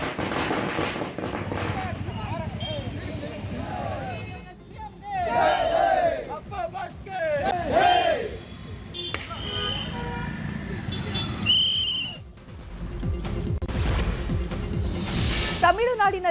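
Fans waving Vijay and Puneet flags cheer and chant slogans outside a temple, hailing Vijay as the next chief minister amid whistles. A loud, dense crowd roar of overlapping voices and rhythmic shouts runs throughout.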